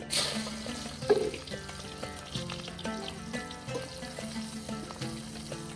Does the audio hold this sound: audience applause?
no